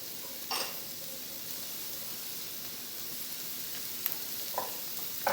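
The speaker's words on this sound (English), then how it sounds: "And we're going to let this just simmer for a little while and start to soften up" Vegetables and thyme simmering in a pan for a low-carb shepherd's pie give off a steady, soft sizzle and hiss, with a few faint clinks and stirring taps scattered through.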